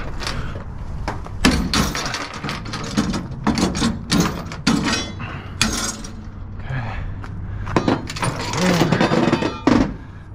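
Ratchet strap being cranked tight to secure a backhoe on a flatbed trailer, with loud, close, repeated ratcheting clicks and clanks in uneven bursts, sounding alone.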